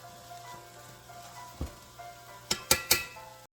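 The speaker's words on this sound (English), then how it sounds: "we're going to saute the onion" Onions sautéing and softening in a pan that held sausage, for firehouse spaghetti, give a low, faint sizzle beneath a steady hum, ending in three sharp utensil clanks against the pan.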